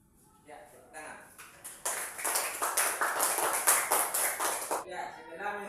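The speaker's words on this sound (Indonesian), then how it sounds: "Ya, tepuk tangan." Sixth-grade primary schoolchildren in an Islamic education class clap after a group presentation, starting with a few scattered claps, swelling into brisk close-up applause, then stopping abruptly, with talk before and after.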